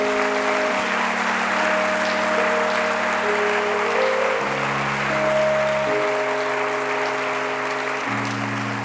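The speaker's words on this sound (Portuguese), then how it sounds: "Aplauda o Senhor que é digno." Church congregation applauding during a Sunday sermon, a steady wash of clapping held for about nine seconds over sustained organ or keyboard chords that shift pitch.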